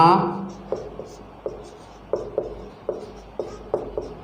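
A pen scratches across paper while a class 10 statistics solution is written out, producing a close, regular series of short strokes after a brief voice at the start.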